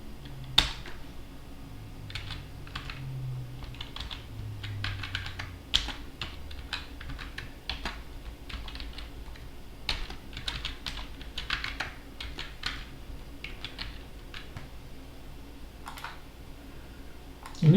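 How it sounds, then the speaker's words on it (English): Password being typed on a computer keyboard, a run of scattered, irregular key clicks close by in a quiet room, with small pauses between presses. "let me type it."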